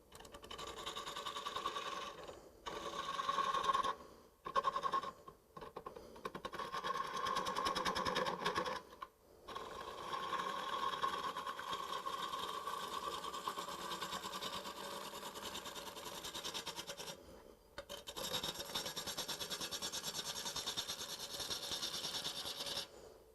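A wood lathe spins a bookend blank at about 611 RPM, giving a steady mechanical whir with a faint tonal whine that briefly drops out several times before settling back into an even drone. No one speaks.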